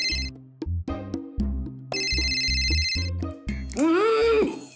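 A phone ringtone plays loudly and continuously, a repeating melodic tune with a rising electronic trill at the end.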